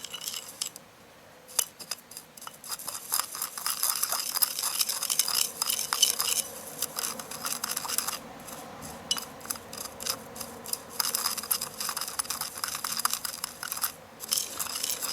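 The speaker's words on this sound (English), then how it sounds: "I'm stirring in anti-clockwise directions because it's for banishing negativity" Eggshell protection powder stirred in a bowl, a busy run of gritty scraping and crunchy clicks that swells and fades in uneven strokes, close and fairly quiet, with no voices.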